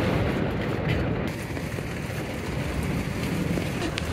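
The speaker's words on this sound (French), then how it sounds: "C'est quand ça pleut en travers, ça passe." Heavy rain driven sideways by wind pours down in the Dolomites, a loud, dense, continuous hiss and patter close by with no pauses.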